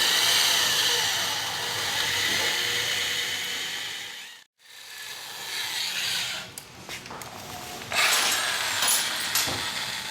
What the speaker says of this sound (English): Let's go ahead and drill the pilot hole first.